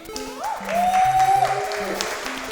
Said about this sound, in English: Round of applause for him, actually.